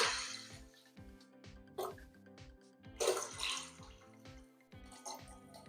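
Water poured into a pressure cooker holding wheat, rice and moong dal for Lahori hareesa: a soft trickling pour with light clinks over a steady rhythmic background beat, fairly quiet.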